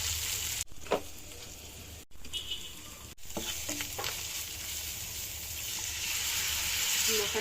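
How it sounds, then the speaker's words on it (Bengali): Turmeric, chili, coriander and cumin with dry red chili frying in a pan of oil for a fish curry, a steady broadband sizzle with a few stirring scrapes and clicks, close and continuous. "একটু ভালো করে কষিয়ে নেব"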